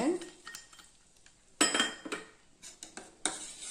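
A spoon stirs badam resin payasam in a pot, producing intermittent scraping and clinking bursts against the metal with quiet gaps between strokes, close and moderately loud.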